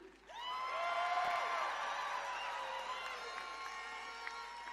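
A protest crowd cheers and applauds Lieutenant Governor Juliana Stratton, a loud sustained roar with whoops and shouts that rises quickly and holds steady for several seconds.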